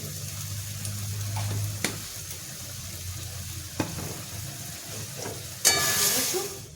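A curry with garam masala sautés in a pan with a steady, low sizzle, broken by a few sharp clinks of a stirring utensil and a brighter hiss of frying near the end.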